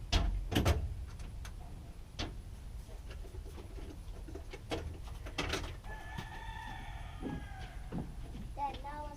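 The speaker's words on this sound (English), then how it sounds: "Every time I come over, that's all I hear is chickens." Chickens cluck and squawk among several sharp bird calls, with a longer rooster-like crow partway through, over steady outdoor background noise.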